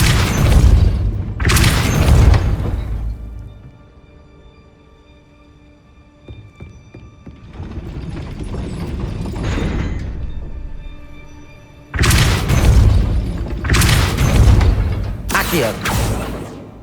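A Depulso spell in the Hogwarts Legacy video game sets off heavy booming thuds and grinding mechanisms as a gate rises, loud bursts at the start and end with a quieter rumbling stretch between them.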